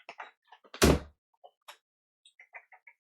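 A door is opened with a loud thunk near the middle, set amid a quiet room with soft scattered small sounds before and after; no one talks over it.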